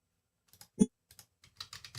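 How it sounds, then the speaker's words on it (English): Quiet, close keystrokes tap on a computer keyboard in an uneven rhythm, one key striking harder than the rest, then a quick flurry of clicks. "when I'm typing in the line edit,"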